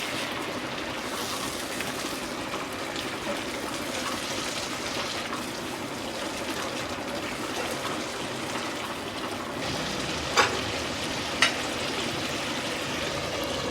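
Tomato paste frying and being stirred in a pan for Bengali rui fish kalia, a steady hissing sizzle that holds at an even level throughout, with two brief sharp scrapes near the end.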